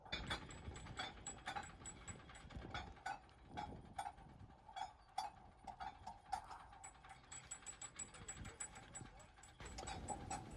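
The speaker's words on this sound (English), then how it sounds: "using the dolly winch to pull the barge into the dock" A dolly winch on the bow bit heads of the Thames sailing barge Blue Mermaid hauling her into dock, with quiet rapid ratcheting clicks and clanks in a steady run, faint and close, under a voice.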